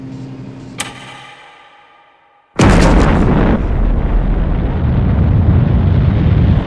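Thunderbirds Sun Probe rocket blast-off: a fading tone gives way to a sudden, massive roaring burst that holds as a loud, sustained rumbling blast to the end.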